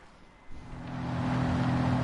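A 500-horsepower car engine in Gran Turismo 7 starts with a sudden low rumble that swells into a steady, loud droning roar.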